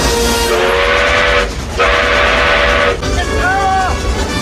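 In Back to the Future Part III, a steam train rumbles along loudly while its whistle sounds in steady tones, briefly breaking off and then returning with a wavering call.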